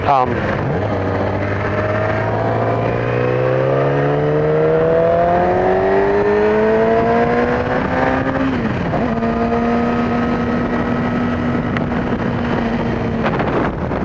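Yamaha YZF-R6 sport motorcycle on a bike-week demo ride, engine winding up steadily in pitch, then dropping and holding a steady drone, loud and close with heavy wind rush over the microphone.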